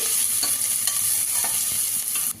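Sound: frying onions and green chillies

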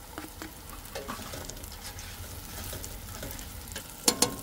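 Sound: onions and garlic frying in a pan

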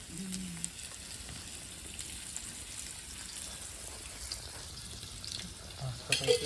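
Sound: fish frying in a pan

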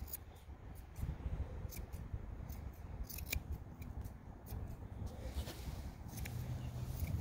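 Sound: curved scissors trimming Newfoundland dog foot hair

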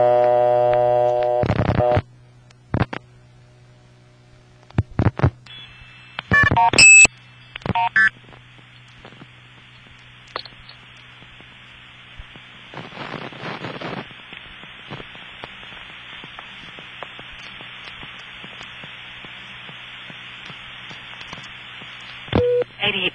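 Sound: 2600 Hz tone blown while MF sender sends tones, sender stuttering

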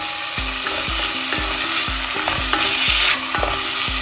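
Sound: green chillies frying in a pan

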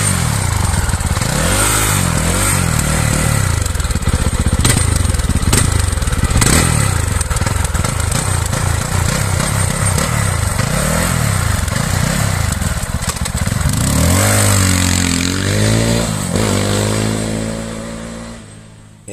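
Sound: motorcycle engine running and revving

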